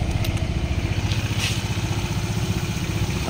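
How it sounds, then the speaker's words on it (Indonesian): A Honda PCX 160 scooter engine idles steadily at close range, with an even low rumble and no squeal, after two months of use. No one speaks. "Ini dan coba saya hidupkan motornya."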